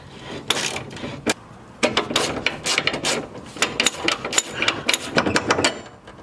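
Bolts on a car subframe are loosened with a ratchet, giving irregular bursts of sharp, close mechanical clicking separated by short pauses.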